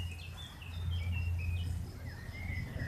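Birds chirp and warble in short, high calls scattered across a quiet woodland, with a steady low hum underneath.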